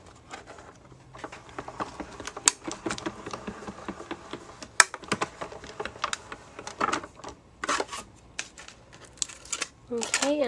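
A manual die-cutting machine cranks paper and a pillow box die through its rollers, giving rapid clattering clicks and ratcheting taps in uneven bursts, with a voice talking at times.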